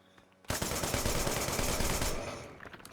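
Rapid rifle fire in the action game Wanted: Dead during a boss fight, a dense, loud burst of shots running for about one and a half seconds before tailing off.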